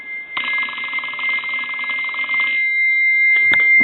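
Bell of a Northern Electric Galion rotary desk telephone rings in a steady rapid trill for about two seconds, loud and close, then cuts off, followed by a brief handset clatter.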